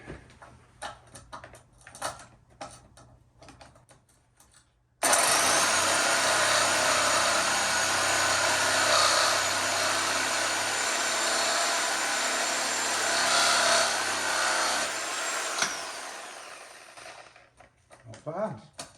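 A reciprocating saw, the blade of a bike trailer build, cuts through plastic in one loud, steady buzzing run of about twelve seconds, starting abruptly and stopping near the end, with brief handling noises before and after.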